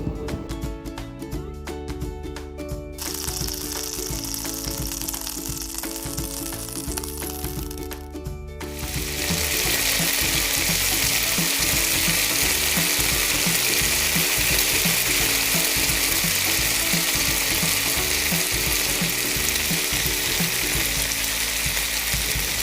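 Blended jackfruit core and onions frying and being stirred in a pan, a steady loud sizzle with clattering, ratchet-like scraping that thickens after the first few seconds and runs on unbroken.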